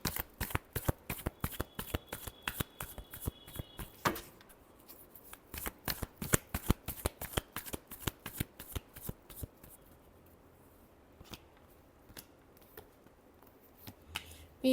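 Tarot cards shuffled by hand, close and crisp, with fast rhythmic riffling bursts followed by sparser, slower card flicks and slaps.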